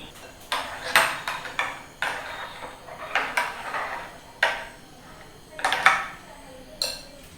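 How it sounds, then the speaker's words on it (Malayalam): A spoon stirs cashew nuts in a metal cooking pot, making irregular close clinks, taps and short scraping bursts separated by quiet pauses, all fairly soft. "അണ്ടിപ്പരിപ്പൊന്ന് ഇളക്കി കൊടുക്കുക."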